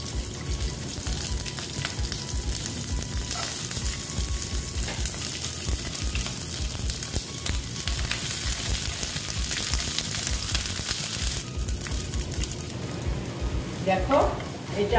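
Sliced onion petals fry in a pan with a steady, close sizzle and occasional stirring scrapes running throughout, loud and continuous with no talk over it.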